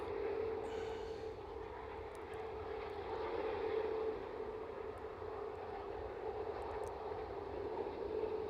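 An aircraft at Manchester Airport drones steadily at a distance, its engine tone holding level for several seconds with no voices.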